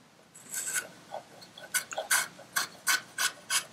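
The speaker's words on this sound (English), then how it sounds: "very safe way to hold a knife when you're carving toward yourself is like this" Knife blade carving toward the user on wood for a rustic charcuterie cutting board made with hand tools, giving a series of close, rasping scrape strokes in a steady rhythm, faint at first then louder and regular.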